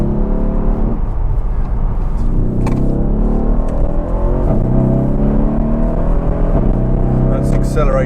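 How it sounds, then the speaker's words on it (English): A Mercedes S212 E63 AMG with a stage 1 tune accelerates off a motorway. The engine drones steadily and loudly from inside the cabin, with low harmonics climbing gradually while a voice talks over it. "That's acceleration over from the motorway, and we're going at pretty much legal speed limits there."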